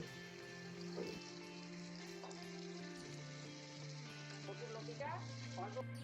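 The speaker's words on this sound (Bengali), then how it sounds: "চিংড়ি মাছ বেশি কড়া ভাজা যাবে না, হালকা করে ভাজতে হবে।" Shrimp frying gently in a pan of oil, a steady soft sizzle running throughout, close and fairly quiet, with no one talking.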